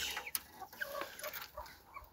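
A hen clucks softly in short, irregular bursts, with faint farmyard rustling around her.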